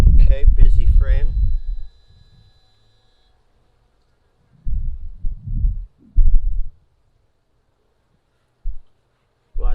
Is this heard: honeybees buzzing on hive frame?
yes